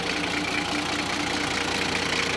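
A turbocharged Toyota Land Cruiser Troop Carrier engine idles with a steady, rough, throbbing rumble and a faint whine on top, loud and close, with no talking.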